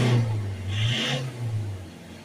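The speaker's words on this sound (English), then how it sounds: "Start the engine up." A Ford Transit 2.2 diesel van, a rear-wheel-drive Euro 5 model, is revved from idle during DPF cleaning. The engine note climbs and then settles back in a close, steady drone with no talking.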